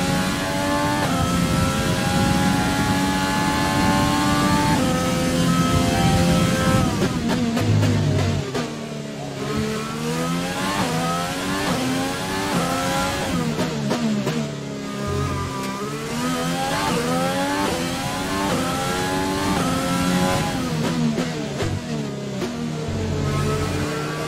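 Race cars roar around a track in racing, engines revving loud and continuous with rising and falling pitch sweeps as cars pass and shift gears, multiple machines overlapping throughout.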